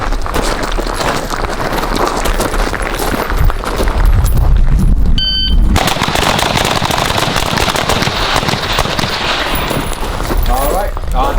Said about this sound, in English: I'm gonna bring the gun up and I'm gonna fire my rounds off